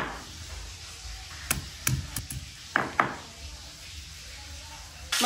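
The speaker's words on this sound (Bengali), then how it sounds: "চালতাগুলো এবার একটু শিলের মধ্যে দিয়ে থেঁতো করে" Pieces of chalta (elephant apple) are pounded on a flat grinding stone (shil) in a home kitchen. A handful of sharp, irregular knocks and thuds stand out against a quiet background.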